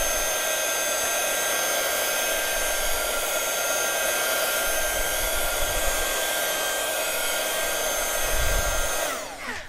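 A handheld heat dryer blows steadily at close range to dry paint on a craft stamp project, a constant loud whooshing hum that cuts off at the end.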